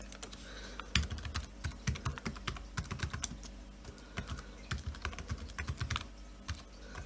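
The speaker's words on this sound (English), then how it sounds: "This keyboard is so weird to type on compared to that one." Typing on the keyboard of an IBM ThinkPad 240 laptop, a steady run of close, quick key clicks in uneven bursts with short pauses, heard alone without talk.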